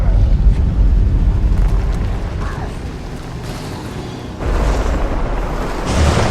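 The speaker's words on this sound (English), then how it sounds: "That bloodstone explosion seemed to trigger some sort of magical echo." Bloodstone explosion and ground tremor in the video game Guild Wars 2, a loud, sustained low rumbling roar with creaking, shifting debris that fades, then swells again in a second heavy surge.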